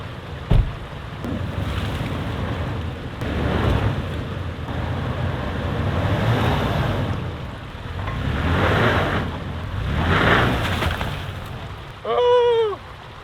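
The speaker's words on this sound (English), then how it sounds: "I just tried driving over this creek" A vehicle pushes through a shallow creek, with steady rushing, sloshing water and wind noise throughout, swelling in several broad surges; a brief squeaky tonal whine cuts in near the end.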